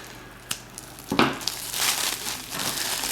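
Newspaper packing crinkles and rustles as it is pulled apart during an unboxing, close-up and continuous with a few sharper crackles, no voices.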